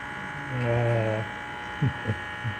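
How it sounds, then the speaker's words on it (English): A Lelit Mara X espresso machine with its case off, the pump giving a single close, steady buzzing vibration for under a second, followed by a few soft knocks. "The noise is because the case is off and everything is vibrating."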